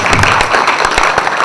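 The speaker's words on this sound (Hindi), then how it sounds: "जोरदार ताली बजाइए प्लीज" An audience claps loudly for an actress at the trailer launch of the Bhojpuri film Ghulami. The applause is a steady, dense patter with a few sharper claps standing out, and no one speaks.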